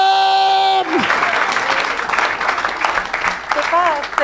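Applause and cheering from a church congregation at a French-language evangelical service, a dense, continuous wash of clapping that breaks in after a held musical tone and carries on loudly for several seconds.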